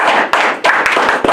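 A short burst of hand clapping at a lively event, a few sharp, loud claps landing unevenly over a continuous wash of applause, close and bright.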